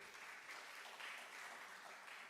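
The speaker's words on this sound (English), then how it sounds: "Give applause to him." Steady applause from a symposium audience on hydrogen metallurgy, a continuous even wash of clapping held at a moderate, fairly distant level without any talking.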